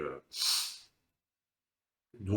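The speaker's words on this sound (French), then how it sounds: "J'ai reniflé un peu" A single short, breathy sniff through the nose, close and fairly loud, followed by a pause and then a voice starting to speak.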